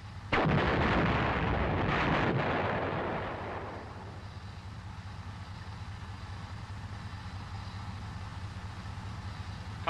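An M551 Sheridan armored reconnaissance assault vehicle fires its main gun in one loud, close blast that rolls into a long fading rumble, with no talk over it.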